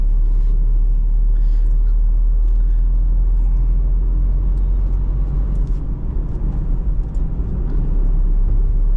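A new Maruti Alto K10 drives along a city road at night, its steady low engine and road rumble filling the cabin continuously, with quiet voices talking faintly underneath.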